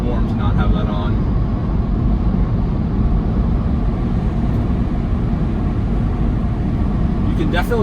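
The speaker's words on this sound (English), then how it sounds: "You can definitely tell that the tires are the cause of a slight rumble as you're driving" Tesla Cybertruck tires rumble steadily while driving, a constant low broadband drone heard from inside the cabin, with brief faint chimes at the start and end.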